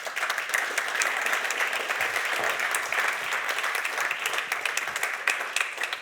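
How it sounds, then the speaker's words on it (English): An in-room audience at a conference panel on European energy and industry gives steady, fairly even applause that fills the whole stretch at moderate loudness. "A round of applause, ladies and gentlemen."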